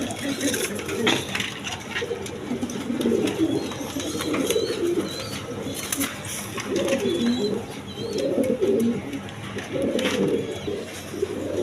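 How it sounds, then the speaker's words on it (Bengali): Gopalganj pigeons, large birds at a pigeon seller's, coo in soft repeated bursts throughout, mixed with low background chatter and ambient noise. "এখানে একটা গোপালগঞ্জের পায়রা আছে দেখেন বড় পায়রা"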